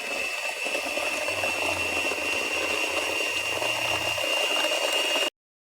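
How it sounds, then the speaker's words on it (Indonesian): An electric mixer runs at high speed through Bika Ambon cake batter, a steady continuous whir with a constant high whine, loud and unbroken before cutting off abruptly near the end. "Kemudian kita kocok menggunakan whisker atau mixer dengan kecepatan tinggi."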